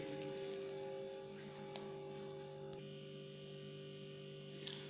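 A refrigeration compressor on a vapour compression cycle test rig runs with a steady electrical hum, constant and moderately quiet throughout, with a couple of faint clicks and no talking.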